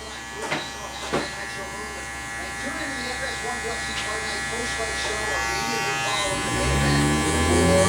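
Electric hair clippers buzzing while trimming a low taper haircut, a close steady hum with soft sounds of hair being cut, under a man's speech for most of the time.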